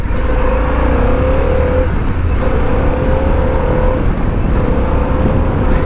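A three-wheeled motorcycle accelerating in sport mode, engine note steady and loud with rising tonal bands, heavy wind rumble underneath throughout.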